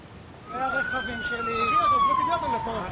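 A wailing emergency siren rises and falls over steady traffic rumble, moderately distant, with faint background noise, as fire engines respond to a missile-strike fire in Tel Aviv.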